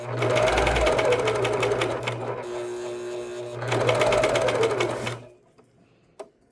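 A serger sewing machine stitching around the corner of a sleeve during an alteration, running loud and close in two steady bursts with a short slowdown between them, then stopping abruptly, with a faint knock afterward.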